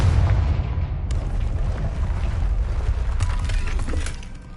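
A Confringo blasting spell explodes in the video game Hogwarts Legacy, a loud booming blast with crackling debris that rumbles steadily for several seconds before fading, with no talking over it.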